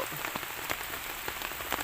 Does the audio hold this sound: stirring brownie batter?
no